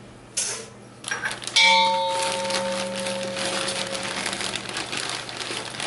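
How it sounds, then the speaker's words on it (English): A mixing bowl holding sugar for cherry oatmeal cookies is struck once like a gong, giving a single bright metallic ring that sustains and slowly fades after a few softer knocks. "Hitting the bowl like a gong is not required."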